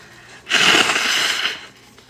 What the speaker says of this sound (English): Hold on, let me sneeze.